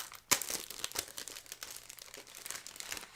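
A crinkly plastic packet of die cuts is torn open with a sharp crackle, followed by several seconds of irregular rustling and crinkling close by.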